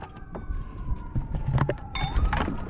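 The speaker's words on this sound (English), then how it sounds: "We got a bunch of sirens on shore, I'm sure you can hear." Wailing emergency sirens on shore rise and fall in the distance, several overlapping, heard from a sailboat with wind and scattered knocks nearby.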